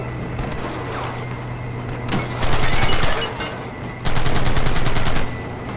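Red Dead Redemption gunfire comes in two heavy bursts of rapid shots, each about a second long, over a steady background hum and scattered lighter pops, no voices heard.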